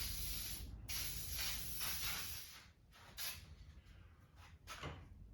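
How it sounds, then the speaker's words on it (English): Temporary spray adhesive hisses from an aerosol can onto a stencil for a wooden camper, sounding in several close, loud bursts separated by short pauses. "Some spray adhesive, temporary adhesive for spraying on the stencil so I can reposition it and put it against the wood."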